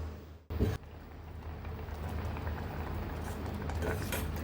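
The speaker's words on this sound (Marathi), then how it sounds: "खिरीला चांगली उकळी आली आहे" Vermicelli kheer (shevai kheer) boiling in a pot, giving a steady, soft bubbling and simmering hiss after a brief louder knock at the start, continuous and fairly quiet with no talking.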